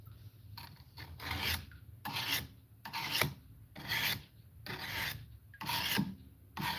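A tool edge is being sharpened on a 600 grit whetstone, giving a steady series of rasping strokes, about seven back-and-forth passes of roughly one second each, close and moderately loud with no talking.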